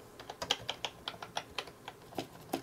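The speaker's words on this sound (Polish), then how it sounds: "To jest właśnie dźwięk przełączników typu plunger." Quick, irregular keystrokes on a Tt eSPORTS Commander keyboard with plunger-type switches, a dozen or so close, crisp clicks tapping out alone at a moderate pace.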